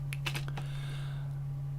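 Keystrokes on a computer keyboard while coding in GameMaker, a few quick close taps in the first half-second, then quiet over a steady electrical hum.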